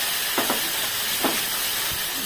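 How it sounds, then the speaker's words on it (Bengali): Ground spice paste of cashew, tomato, fennel, coriander and cumin frying in oil for paneer kofta curry, a steady broad sizzle with a few soft stirring scrapes, close and continuous, no voices. "মশলাটা বেটে নিয়েছি আমি ওর এটা তেলের মধ্যে ভেজে নিচ্ছি"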